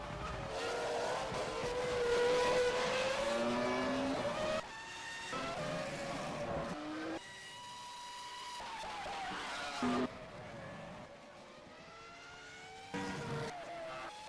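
Formula One race cars in the F1 2000 video game at the Hungary circuit, engines screaming through rising and falling gear changes over a flying lap, loud and continuous with brief drops between shifts.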